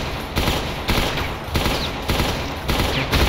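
Rapid gunfire from the Brutal Doom v21 video game, a dense, loud fusillade of repeated shots in bursts with brief gaps, continuous across the whole stretch with no talk.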